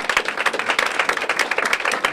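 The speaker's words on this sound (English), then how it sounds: "an applause for her" An audience at a women's global summit gives steady hand-clapping applause, dense and continuous, heard close and without speech over it.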